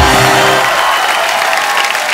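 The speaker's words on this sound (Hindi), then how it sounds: "तो जोरदार तालियां हो जाए" A loud burst of applause from a TV comedy show studio audience, fading after a low musical tone cuts off early.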